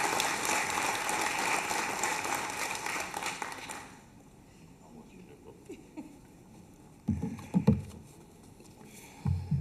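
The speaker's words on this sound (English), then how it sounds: "Let's give him a round of applause." Applause from an awards-ceremony audience welcoming a mayor at a neighborhood watch awards event, a dense sustained clapping that fades after a few seconds, leaving a quiet room with scattered shuffles and a few low thumps.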